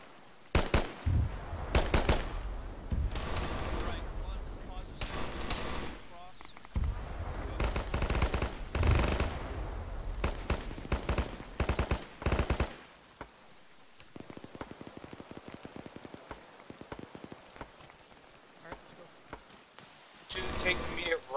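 Bursts of machine-gun and rifle fire in an Arma battle, coming from a building across a bridge, sharp rapid cracks in clustered volleys for the first half, then sparser scattered shots and distant pops.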